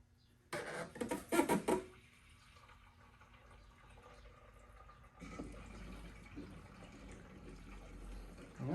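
Liquid fuel pouring into a motorcycle tank on a bike built from spare parts, a brief burst of splashing fill followed by a quieter steady trickle, faint and close with no talk.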